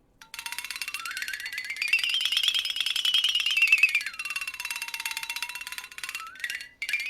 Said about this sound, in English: Alright, here's the Flexathone.